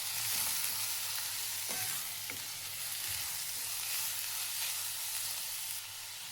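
Chopped onion sizzles steadily in hot oil with cumin and mustard seeds for a Maharashtrian tur dal and onion dish, a continuous close frying hiss with a few soft stirring clicks.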